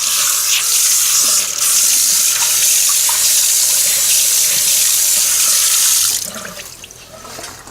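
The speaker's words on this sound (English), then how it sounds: "And now we can just rinse out our sink and rinse off our hands." Tap water runs loud and steady into a kitchen sink as the sink and hands are rinsed during Thanksgiving turkey prep, a continuous stream for about six seconds before it eases off quieter near the end.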